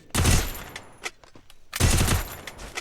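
UMP submachine gun fire in the mobile shooter Free Fire, two loud bursts of rapid shots separated by a few scattered single cracks, close and punchy with no talking.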